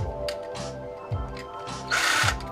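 A power tool backs screws out of a security card reader made of aluminum and stainless parts, with short whirring runs and pauses between them, close up and loud, ending in a longer, higher-pitched burst.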